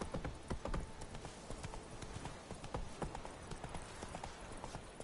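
Hooves of the horse Roach clip-clopping at a steady trot in The Witcher 3, a continuous rhythmic patter with a faint voice briefly present.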